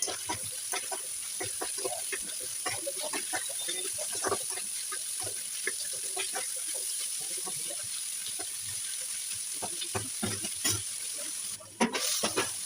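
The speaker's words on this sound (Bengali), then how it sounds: "এবার আমি 200 গ্রাম পেঁয়াজ কুচি করে কেটে রাখা দিয়ে দিলাম।" Garlic, dried lotte fish and chopped onion frying in oil, a steady sizzle broken by frequent stirring scrapes and clinks, with a sharp clatter near the end.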